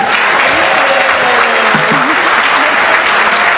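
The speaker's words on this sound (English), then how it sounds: "I want you a big round of applause." Applause from a gala audience at an awards ceremony, a dense, steady wash of many hands clapping loudly throughout, with a faint tonal voice or music line running underneath.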